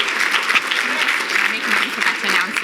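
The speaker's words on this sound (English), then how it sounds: "So, yeah, you can clap." An audience at a gala auction claps steadily and fairly loudly throughout, with a voice speaking over the applause.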